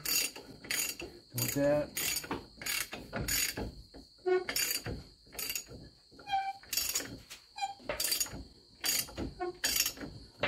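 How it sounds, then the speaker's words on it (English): Rapid mechanical ratcheting as a socket wrench tightens hardware on a Jeep Compass during a wheel bearing replacement in a home garage, repeated bursts of clicking close by with a few brief spoken words between them. "Tighten it up."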